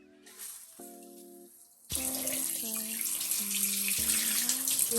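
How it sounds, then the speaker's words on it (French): A hot shower switches on partway through, turning quiet background tones into a loud, steady hiss of running water that continues to the end, with faint music-like tones underneath. "mon moment de détente sous ma douche avec l'eau bien chaude"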